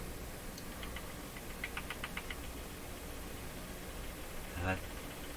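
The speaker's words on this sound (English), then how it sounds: "That clicking sound you just heard is actually the motor here." Faint, rapid ticking from the clock motor of a Jewel Model 505 vacuum tube clock-radio, in short bursts over a steady electrical hum, with one louder click near the end.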